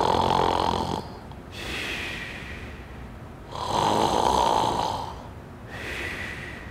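A storyteller imitates loud snoring with his voice: two long, rasping snore cycles, each a harsh inhale followed by a whistling exhale, close and loud.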